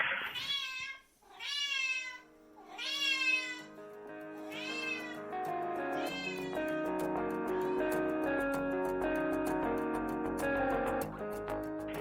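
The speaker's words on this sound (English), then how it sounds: "she'll meow every time I stop" A house cat meows repeatedly and insistently at close range, several rising, drawn-out calls in the first few seconds before blending into a busier, tonal background; no voices.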